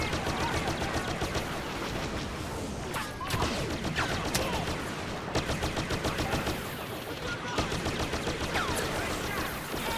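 Rapid automatic-style pistol fire in Star Wars Battlefront, dense bursts of blaster shots crackling nearly nonstop with brief gaps, loud and close, amid the battle's din.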